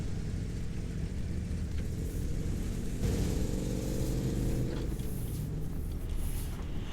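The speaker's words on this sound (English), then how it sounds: "all of the trucks in this game sound so good as well" A heavy off-road truck in the Snowrunner video game drones with a steady low engine rumble, revving slightly higher midway as it pushes on, loud and continuous with no talk.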